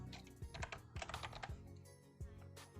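Code being typed on a computer keyboard while building an Android login app in Android Studio: a brisk, uneven run of close, clicky keystrokes with a few heavier key hits, no voices.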